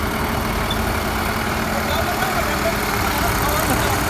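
A heavy tractor engine idles steadily and loudly, a constant low rumble with no change in pace throughout.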